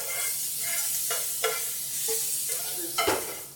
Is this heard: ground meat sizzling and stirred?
yes